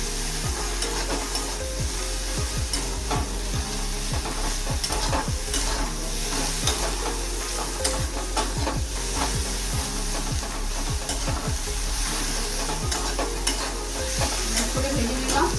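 Okra frying in a pan while being stirred, a steady sizzle with repeated scraping spoon strokes at an irregular rhythm, close and clear with no talking.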